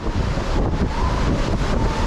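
Strong wind buffets the microphone at the top of the Kanyakumari view tower by the sea, a steady loud roar with gusty rumbling and no talking.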